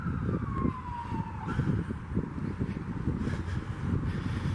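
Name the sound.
sirens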